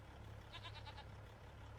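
Goats bleat in the farm video game Farming Simulator 25, a quick run of several short, nasal cries over a steady low outdoor hum.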